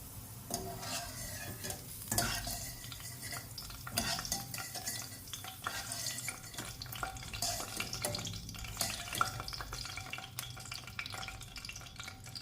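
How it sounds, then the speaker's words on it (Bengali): Ghee and flour sizzle and fry in a pan for Sylheti flour halwa while a spoon steadily scrapes and stirs, a continuous close crackle broken by irregular clanks against the metal. "ভাজ হয়ে গেছে এগুলো আমি এখন তুলে নেব"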